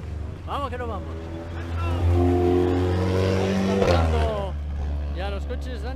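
Rally cars in the Ubrique–Benaocaz hill climb, engines revving and climbing through gears as they pass close by, with people talking nearby.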